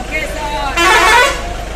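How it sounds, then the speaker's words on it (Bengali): A bus sounds its horn while pulling out of the busy Suri town bus stand on a rainy monsoon evening, one loud sustained honk over engine rumble, with people talking nearby. "বাসগুলো সব বেরোচ্ছে"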